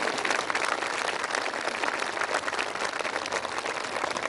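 Dense, steady applause from a seated audience fills the hall at a Brahma Kumaris groundbreaking and dedication ceremony, with many hands clapping at once and holding even and loud throughout, no voices over it.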